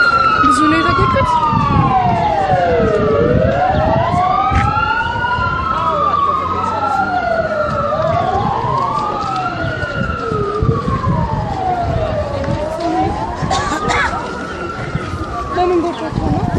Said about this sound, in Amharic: እቺን አምቡላንስ ነው ማድረስ ሰው የተጎዳለ እንዴ?